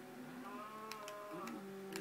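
A mooshroom cow in Minecraft moos in a few drawn-out, tonal calls at moderate volume, with brief clicking ticks scattered between them.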